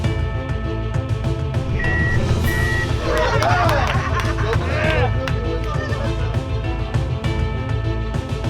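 Steady reversing beeps sound over a loud, continuous heavy machinery engine rumble at a Texas equipment site where an excavator is operated, with people talking throughout.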